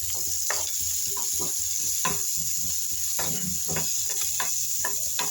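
Masala frying in a pan for a soya dish: a steady, soft sizzle with repeated scraping strokes as a spoon stirs, close and fairly quiet, no talk.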